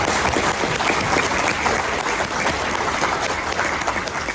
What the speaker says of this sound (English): can I please ask a round of applause for our speakers?